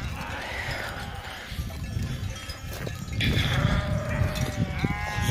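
Several lambs bleat outdoors, thin wavering cries from nearby over a rustling, breezy background.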